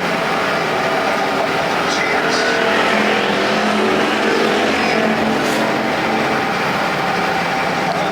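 Factory stock race cars roar around Perris Auto Speedway during a main event, a loud continuous engine drone with rising and falling passes, while an announcer talks over it.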